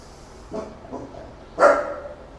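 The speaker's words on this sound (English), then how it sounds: "She's barking in the background." Dog barks indoors in the background, one short muffled bark followed by a louder, sharper one about a second later.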